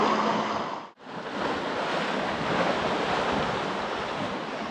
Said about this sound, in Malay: Ombak pun macam makin kuat